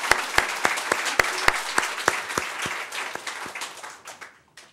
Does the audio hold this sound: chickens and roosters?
no